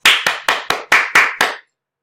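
Seven sharp, evenly spaced hand claps from a teacher leading a classroom call-and-response, loud and close with short decays, ending abruptly.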